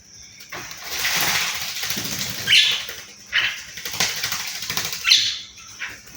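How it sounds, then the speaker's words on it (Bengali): Bursts of wet fluttering and splashing as crested myna birds flap their wings in water, repeating in several loud, close flurries. "সুন্দরভাবে গোসল করতেছে"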